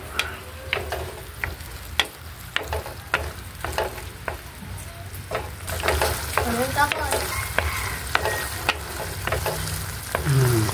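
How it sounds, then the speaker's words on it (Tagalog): Two eggs sizzle in a frying pan while a utensil scrapes and stirs them in a steady rhythm of sharp clicks, with louder, busier frying toward the end. "Haluin na po natin."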